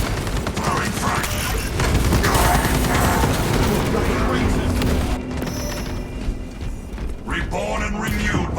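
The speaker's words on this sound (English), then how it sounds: "Throwing frag." A frag grenade thrown and exploding in Warhammer 40k Space Marine 2 amid continuous loud gunfire and booming combat, with a voice speaking over the din.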